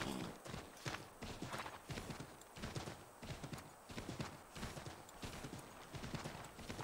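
A galloping horse in the Assassin's Creed 3 game pounds out a quick, even clip-clop of hooves that carries on throughout, near and fairly loud against a faint outdoor background.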